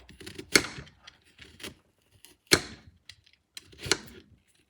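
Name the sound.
knife cutting fresh ginger root into rounds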